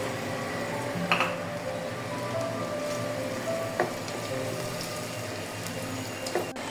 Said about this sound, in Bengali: আমি দিয়ে দিলাম পেঁয়াজের সঙ্গে একসাথে দুইটা ভাজা হবে